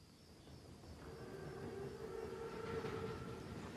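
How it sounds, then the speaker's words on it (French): A huge armoured German train in the Call of Duty WWII video game rumbles along in the distance, a faint low steady rolling drone with a sustained tonal whine rising above it. "C'est le plus gros train que j'ai jamais vu."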